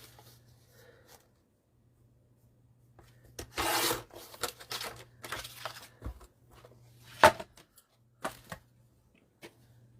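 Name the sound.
cutting A4 paper to 7 1/2 inches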